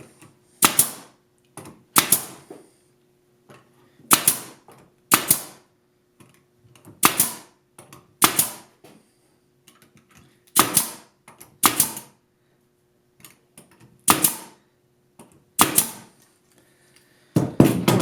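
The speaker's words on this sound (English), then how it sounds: "nails right to the outside. Push down on the gun as hard as you can." A nail gun drives nails into a segmented wood bowl being glued up, firing sharp, loud clacks in irregular pairs and singles at close range across the whole stretch, with quiet gaps between shots.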